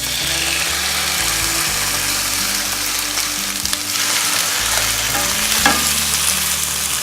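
Spinach and passata are stirred into a hot frying pan, giving a loud, continuous sizzle with scraping stirring noises close up and no speech.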